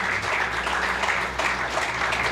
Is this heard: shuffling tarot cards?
no